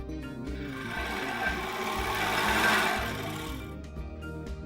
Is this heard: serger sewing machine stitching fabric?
yes